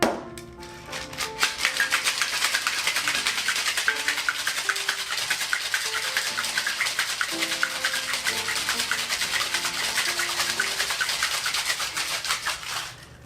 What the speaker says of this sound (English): I'm going to get some ice in this tin.